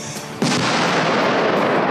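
Gunfire or artillery at the front line in eastern Ukraine: one sharp loud blast about halfway in, then a sustained, heavy rumbling roar of fire that holds steady to the end, with a little talk before the blast.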